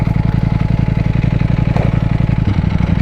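Ducati Panigale V4S engine running close by in a park, a loud, steady throbbing with a rapid, even pulse held throughout and a slight shift near the end as the bike begins to move off.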